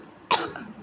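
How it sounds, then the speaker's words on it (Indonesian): A single short, sharp cough bursts out close by after a moment of quiet, followed by a brief breathy tail. "Aku batuk lagi, berarti dia bohong."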